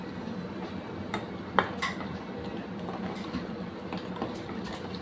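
Poppy seed paste with spices is stirred in a bowl for a hilsa fish dish: a spoon scrapes and clinks against the dish at close range, with one sharper knock, over a quiet room.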